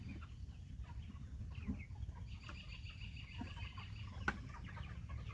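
Quiet, scattered clucking from a few chickens over a low background hum, with one brief sharper call near the end.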